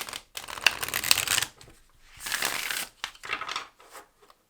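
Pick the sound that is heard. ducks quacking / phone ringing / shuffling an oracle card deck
shuffling an oracle card deck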